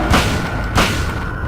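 Two heavy shotgun blasts in the Silent Hill video game, loud and booming, spaced well under a second apart, each with a short decaying tail and no voices.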